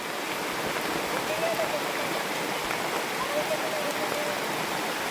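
Heavy rain falling in a steady, dense hiss that fills the whole stretch without a break, loud and continuous, with no other sound standing out.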